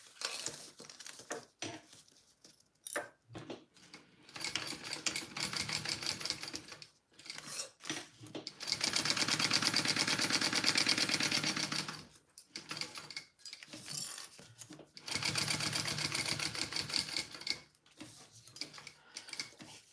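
A home sewing machine stitches a bag in a busy mechanical clatter, running in several sustained bursts with brief pauses between them, close and fairly loud, with the bobbin nearly empty.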